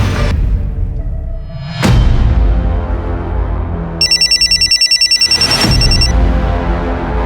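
An old-style telephone bell rings in a rapid trill against a loud room background with a sharp bang, no talking.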